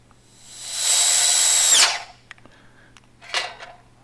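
A Black & Decker miter saw fitted with a Diablo Steel Demon metal-cutting blade whines up to a loud, high screech cutting scrap metal, binds and spins down abruptly, followed by a few clanks and a short second burst.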